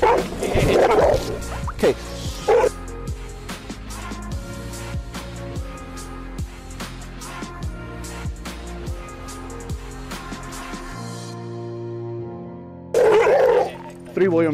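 A Labrador mix barking and yipping sharply in repeated bursts close to a police officer, with whimpers between them, over a sustained tonal hum and a man's short spoken word.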